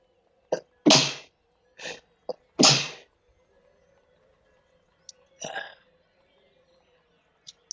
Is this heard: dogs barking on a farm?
no